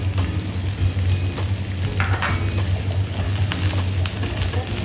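Chopped onion sizzles steadily in hot oil in a pan, a loud continuous frying hiss with occasional stirring scrapes, close up and with no voices.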